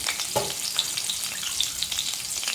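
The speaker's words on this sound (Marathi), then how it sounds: "आता मी ह्या काचऱ्या ह्याच्यामध्ये घालते" Thin potato slices tipped into a hot cumin and green chilli tempering, crackling with a dense bright sizzle and a couple of light clinks, close and even throughout, no one speaking.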